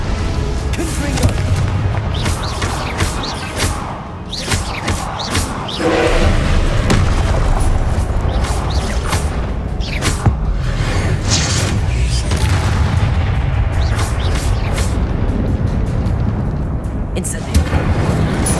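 Fiery Confringo blasting spells explode in the Hogwarts Legacy video game on PS5, a dense barrage of loud booming bursts and thuds layered over continuous combat noise, with voices shouting spell names throughout.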